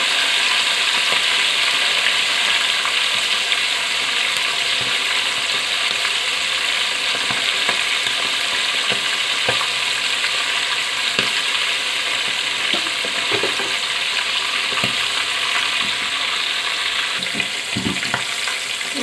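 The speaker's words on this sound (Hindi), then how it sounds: "हमारा चिकन फ्राई हो गया" Chicken pieces deep-frying in hot oil for Saudi chicken mandi, a steady close sizzle and crackle throughout, with occasional scraping stirs and clinks of a utensil, no voices.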